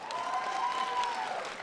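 A comedy-show audience claps steadily for under two seconds, a moderate, even wash of applause without any talking.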